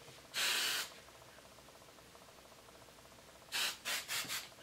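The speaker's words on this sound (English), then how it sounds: "I like to put hairspray" Hairspray hisses from an aerosol can onto hair in a single half-second burst, then several short bursts, close but quiet in a still room.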